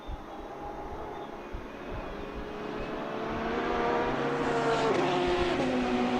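GT3 race cars, a Lamborghini running alongside a Porsche at Mugello, roar steadily close by, the engine note swelling louder and climbing in pitch as they accelerate.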